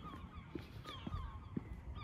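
Birds calling at night near the sea, several short honking, goose-like cries spaced roughly half a second apart, faint and somewhat distant over soft background noise.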